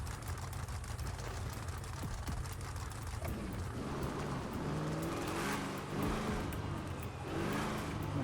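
A race car engine in GTA 5 drones steadily and loudly throughout, rising and falling in pitch as it accelerates and shifts, with no talk over it.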